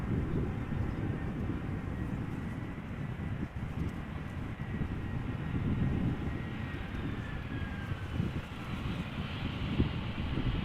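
A Croatia Airlines airliner inbound from Zagreb makes a crosswind arrival at Amsterdam Schiphol, its engines a steady, moderately distant roar with wind buffeting the microphone.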